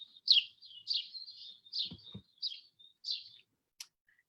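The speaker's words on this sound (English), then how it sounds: "you're likely to hear birds" Small birds chirp in a city neighborhood: a series of short, high tweets repeating about twice a second, fairly faint and moderately distant, with a few soft clicks in between.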